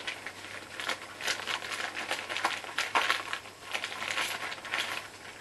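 Vinted parcel packaging being torn open by hand, a run of crisp crinkling rips and rustles, close and fairly quiet, with no talking.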